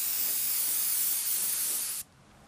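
A light burst of lacquer flat coat sprayed onto a small model part, a close, bright, steady hiss lasting about two seconds before cutting off abruptly to quiet.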